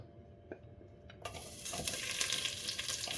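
Oil bursts into a steady crackling sizzle as garlic hits a hot pot, continuing close and fairly loud after a few faint clicks.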